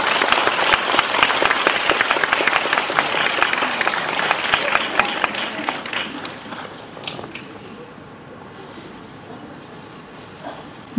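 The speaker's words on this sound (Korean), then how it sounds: "박수를 좀 길게 부탁드립니다." A sold-out cinema audience keeps clapping for guests entering the theatre, the applause loud and dense at first, then thinning and fading toward a quieter end.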